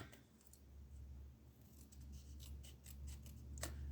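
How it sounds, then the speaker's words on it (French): Scissors snip a paper piece for a vintage botanical album, a quiet series of short crisp cuts close by over low background hum. "On va le découper, mais on le garde."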